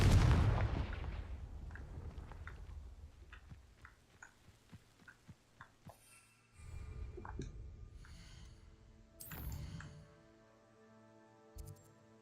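A Confringo fire-blast spell in Hogwarts Legacy erupts in a loud boom that decays over a few seconds into scattered crackles and small pops, followed by quieter game effects and chimes.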